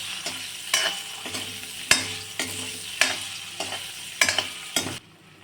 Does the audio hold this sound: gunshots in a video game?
no